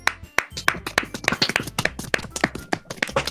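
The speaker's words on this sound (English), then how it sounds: "Great applause." Applause sound effect from a visual novel game: a brisk, close burst of hand claps, dense and uneven, running steadily for a few seconds with no voices.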